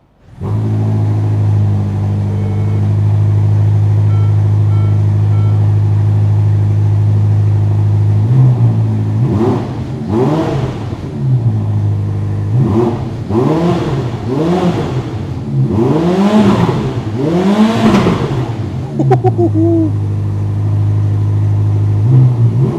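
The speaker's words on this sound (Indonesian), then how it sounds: "Begitu tombol start kita tekan, langsung kedengaran suara V8-nya nyala gitu." A Ferrari SF90 Stradale's turbocharged V8 starts at the push of a button and settles into a steady idle, then revs sharply several times, each rev rising and falling.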